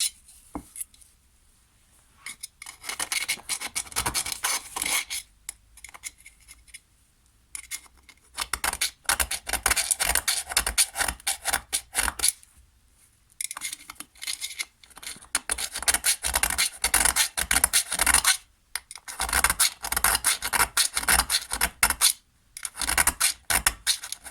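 A 3.2mm round chainsaw file rasps against the metal muffler of a STIHL MS 151 TC chainsaw in long bursts of steady back-and-forth strokes, loud and close, with short pauses between bursts.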